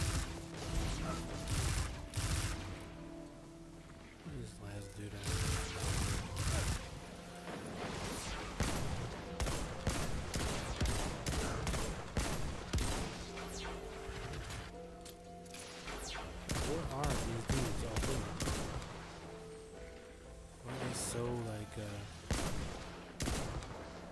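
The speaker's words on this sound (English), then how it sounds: "They're still like shooting at me." Sustained gunfire from Destiny 2 on PS4 during a Festival of the Lost match, with rapid bursts and repeated shots over a busy game backdrop, loud and continuous, while a player talks now and then.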